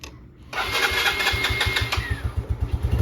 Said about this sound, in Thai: มาลองฟังเสียงเครื่องก่อน